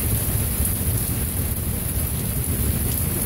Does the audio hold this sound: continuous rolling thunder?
yes